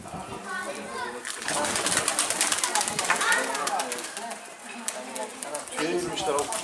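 Tumbler pigeons in a sidewalk coop coo and flutter near the microphone, their soft calls mixed under the continuous chatter of people and children talking nearby.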